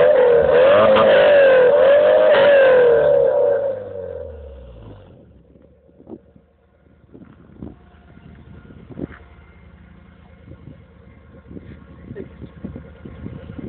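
A Porsche 944 engine revs hard and loud for a few seconds, pitch rising and falling, then drops away to idle with scattered clicks and knocks.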